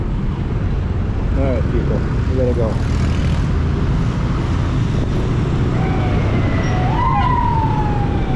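An ambulance siren rises and falls faintly in the distance amid heavy traffic rumble on a motorbike ride in Angeles City, Philippines, with brief chirping sounds early on.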